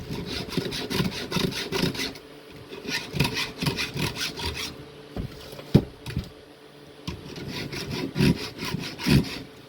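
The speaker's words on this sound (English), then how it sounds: "I'm just doing quick, 5-10 minute files just to get me back to cutting" A Stihl 2-in-1 file sharpens a chainsaw ripping chain in the field, making close, rhythmic rasping strokes in several quick runs separated by brief pauses.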